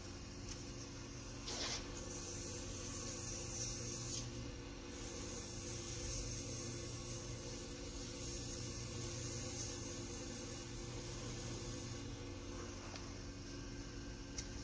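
Steady, continuous rasping of a ring being sanded by hand with 220 to 320 grit sandpaper, an even abrasive hiss that runs throughout with only slight swells, close and fairly quiet.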